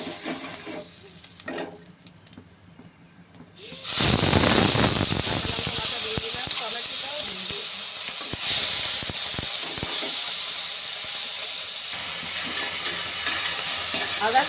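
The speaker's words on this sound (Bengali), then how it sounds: "মশলাটা ভালো করে কষতে নেব।" Spice masala with salt sizzles loudly as it is stirred and fried in a pan, a steady close-up hiss of frying with scraping stirring strokes after a quieter start.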